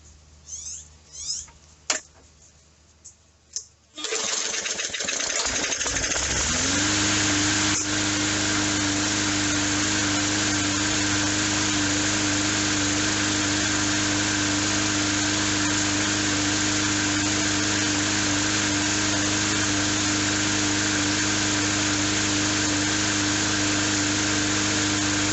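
A carburetor-cleaned lawn mower engine cranks a few times, then catches and runs steadily and loudly close by, holding a constant idle with a slight sputter throughout.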